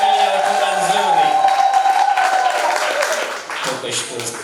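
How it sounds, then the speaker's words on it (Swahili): Church congregation applauding with ululation after a sermon, a loud wavering high trill riding over dense clapping, with voices mixed in throughout. "Ongeza makofi na vigelegele kwa ajili ya hotuba nzuri."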